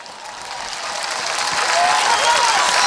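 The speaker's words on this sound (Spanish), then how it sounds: "Dele un aplauso a Dios." A church congregation claps loudly for God in a dense wash of applause that swells and grows louder over a few seconds, with faint vocal sounds mixed in.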